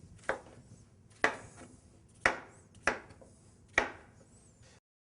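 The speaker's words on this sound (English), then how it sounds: "you're going to cut it into smaller pieces" Calabaza squash being cut into smaller pieces, with five crisp, separate knife chops onto a board, spaced about a second apart, close and clear against a quiet background.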